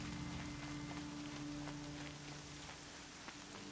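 Steady rain patters down in Horizon Zero Dawn, an even, continuous hiss of drops falling across the landscape, moderately quiet with no voices.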